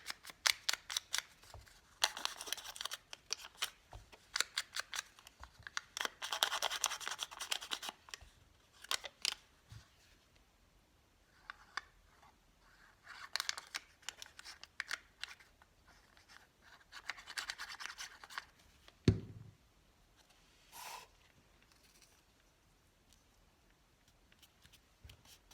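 Scissors trim paper around a handmade riveted-look craft tag: quiet, close snipping and crisp paper rustling in irregular bursts, with a brief low thump near the end and no voice.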